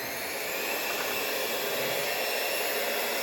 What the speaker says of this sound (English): So I'm going to start to run the mixer, and you'll see it's flowing